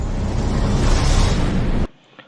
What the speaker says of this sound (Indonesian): Tapi setelah puluhan meter, ambulans tersebut justru meledak